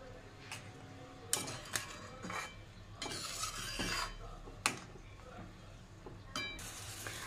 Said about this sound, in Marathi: व्यवस्थित मिक्स करून घेणार आहोत।